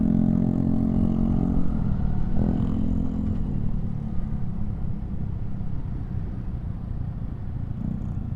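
Steady night street traffic in BGC with passing cars and motorcycles, a continuous low engine rumble and a brief rev partway through, fairly close and without talk.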